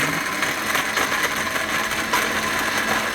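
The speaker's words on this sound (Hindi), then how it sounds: "जो ब्रेड के पीसेस हैं उनको ग्राइंड करेंगे" A kitchen grinder whirs steadily as it grinds leftover bread pieces, a dense close motor roar with a slight rattle, continuous and loud, with no speech over it.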